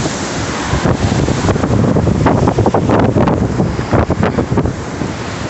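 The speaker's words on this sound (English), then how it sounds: "You see the wind blowing a hoolie." Strong storm wind blasts loudly and continuously across the microphone, a heavy rushing roar with gusty surges and buffeting throughout, no voices.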